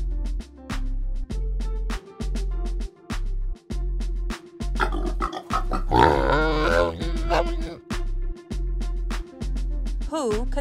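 Pig grunts and snorts rise briefly over a steady, bouncy music loop, with no voices.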